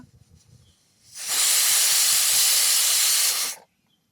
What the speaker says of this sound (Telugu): కుక్కర్ మూత పెట్టేసి రెండు విజిల్స్ వచ్చే వరకు ఉడకనిస్తాం